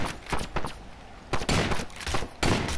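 Shotgun blasts in an SCP game: several loud, booming shots in quick succession with broad noisy tails, separated by short gaps, with no voices during the firing.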